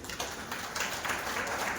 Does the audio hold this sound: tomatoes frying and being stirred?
no